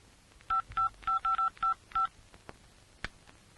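A telephone number is dialed on a keypad: seven short, evenly spaced touch-tone beeps in quick succession, close and clear, followed by a few faint clicks.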